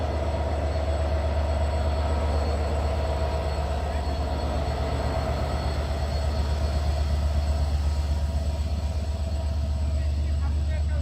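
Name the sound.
EMD 66-11 diesel locomotive train, imported from America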